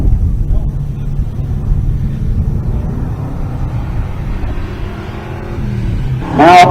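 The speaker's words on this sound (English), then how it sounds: "Here's Derek Hansen, the 70 model Plymouth Duster. That's an A-body Mopar." A 1970 Plymouth Duster 340, an A-body Mopar, idles with a steady low rumble at a drag strip, then its engine revs up sharply near the end.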